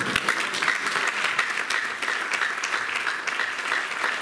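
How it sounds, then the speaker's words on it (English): A church congregation at a summer camp service applauds, a dense, steady burst of many hands clapping at close range with no voices over it. "Clap for God."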